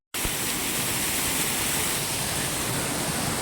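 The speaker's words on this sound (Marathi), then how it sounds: "वाटेतच एक झरणा लागला आहे" A mountain waterfall beside the trek trail from Gaurikund to Kedarnath in Uttarakhand gives a dense, steady rushing roar of falling water, loud and close, starting abruptly and continuing unbroken.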